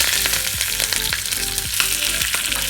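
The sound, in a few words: curry leaves sizzling in hot oil for pumpkin curry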